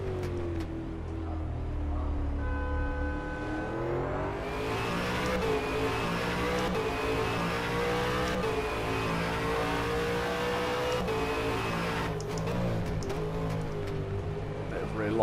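Simulated V8 Supercar engines in rFactor 2, including a Holden and a Volvo, rev and shift through gears in a continuous loud drone with rising and falling pitch, and a voice talks over the engine noise.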